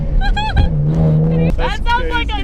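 Loud, raspy exhaust from a Nissan 350Z fitted with test pipes and headers, revving up and holding a steady drone before a sharp change, with voices mixed in.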